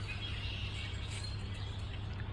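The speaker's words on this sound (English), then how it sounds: "You can hear and see all the red-winged blackbirds." Red-winged blackbirds calling in a swamp in April, a faint, steady wash of chirps and calls blended into constant background noise.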